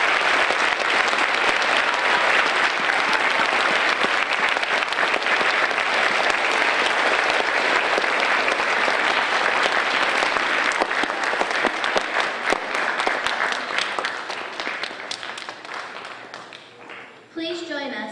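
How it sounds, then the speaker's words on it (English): A school Veterans Day ceremony audience gives veterans sustained, loud applause, dense clapping that holds steady before tapering off near the end. "I want to give them another special applause for their service and their sacrifice"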